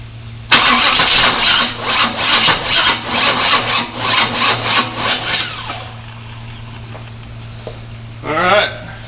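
A 1997 Chevy Suburban engine cranks in a rapid rhythmic churn of about a dozen pulses after a timing adjustment and fuel pump repriming, then stops without catching, followed by quiet and a brief second crank.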